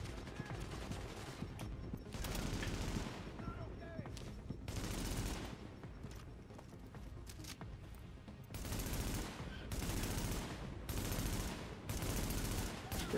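Bursts of automatic gunfire from an enemy in The Division video game, steady rapid shots rolling on through the whole stretch in loud waves with brief lulls, no talk over it.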